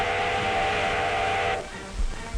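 Steam train whistle blowing in a long sustained blast from a 1930s railway, loud and steady with hissing steam, then cutting off into rumbling train noise.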